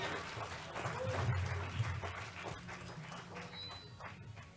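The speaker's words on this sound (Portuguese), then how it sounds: "Dê um forte aplauso e glória para o nome dele." A church congregation applauds in a steady, dense wash of clapping that stays fairly faint and distant, with some crowd murmur mixed in for the whole stretch.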